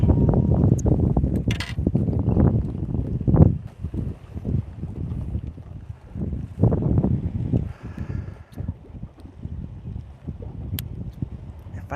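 Wind gusts buffet a bass fishing boat on a spring lake, a steady rumbling low roar with rustling surges that rise and fall throughout.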